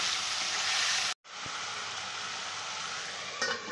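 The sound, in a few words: stirring chili powder into frying pumpkin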